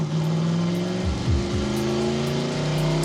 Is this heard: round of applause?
no